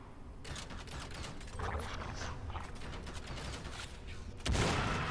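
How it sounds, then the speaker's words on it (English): Enemy gunfire in the game Crysis, with rapid clattering bursts of shots and mechanical rattles running steadily, plus a louder burst near the end. "Oh, now they're shooting at me."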